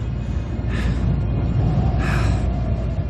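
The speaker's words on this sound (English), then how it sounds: "I'm breathing really heavy." Two heavy, gasping breaths from a character in The Fidelio Incident, close and loud over a steady low rumble, each a drawn-out rasping exhale about a second apart.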